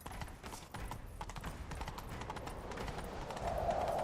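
Hooves clop in a quick galloping rhythm as a horse runs in The Witcher 3, fairly faint under game ambience and growing slightly louder toward the end.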